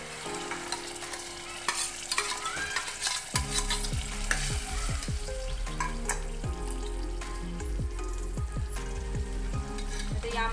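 Mashed lentils being stirred into a pot of sambar with pumpkin and drumsticks; a steady, close sizzle of frying runs throughout, broken by a series of distinct scraping stirs in the second half.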